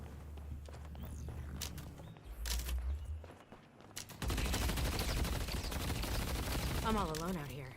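In the video game Deadlock, a turret fires in steady, dense bursts that swell loud and continuous in the second half, layered with game effects and a player's voice talking in the first part.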